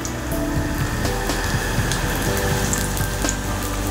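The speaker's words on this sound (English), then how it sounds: "let's add all the nacho chips inside" Homemade corn-flour nacho chips fry in hot oil with a steady, dense sizzle and crackle that stays loud and even from start to finish.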